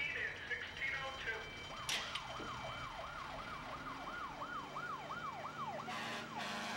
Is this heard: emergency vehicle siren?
yes